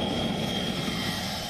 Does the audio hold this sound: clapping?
no